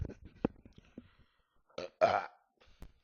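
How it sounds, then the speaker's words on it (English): A person burps loudly twice in close succession, following faint, scattered voice sounds and small noises at close range. "Just burped again."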